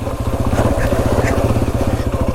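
A Honda CRF 250F dirt bike engine runs steadily at a low, even idle, close and loud, with a fast regular pulsing chug and no voices over it.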